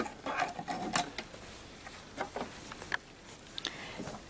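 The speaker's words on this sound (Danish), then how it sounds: "så overtransportøren er med i at gøre, at stoffet ikke kommer til at bule og vulke, når vi syr stræksømme" A Pfaff Passport sewing machine stitching stretch seams, a fairly quiet mechanical patter of rapid needle strokes with small clicks, running unevenly in short bursts.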